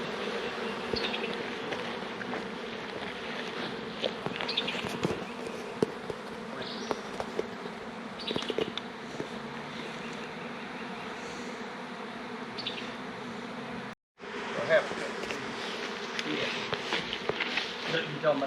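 Honeybees buzz continuously around the hive, a dense droning hum with occasional louder passes close by and a brief dropout near the end.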